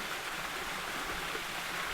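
A creek rushing by near a waterfall gives a steady, close, broadband wash of flowing water with no pauses and no voices.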